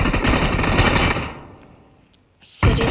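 Rapid automatic gunfire in a video game, a loud dense burst that stops abruptly, a brief lull, then more shots starting again.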